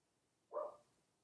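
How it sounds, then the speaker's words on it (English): A single short dog bark, one quick muffled yap heard indoors at a distance and fairly faint, with no other sound around it. "My dog's barking."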